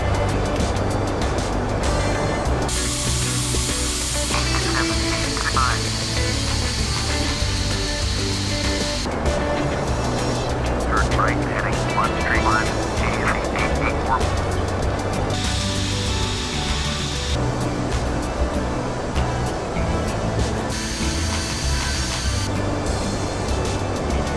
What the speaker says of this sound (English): we're being vectored onto final for runway 26 left at London's Gatwick International Airport